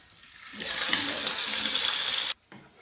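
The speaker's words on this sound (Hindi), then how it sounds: "ये देखें जी, हमने मटन इसमें डाल दिया कढ़ाई में।" Spiced mutton hits a hot kadhai and sizzles loudly, a bright steady hiss of frying that holds for about two seconds before cutting off abruptly.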